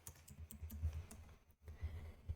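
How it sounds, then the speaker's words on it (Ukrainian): Quiet typing on a computer keyboard entering a git init command, a quick run of light key taps close up, a brief pause, then a few more taps. "Ми пишемо команду git init."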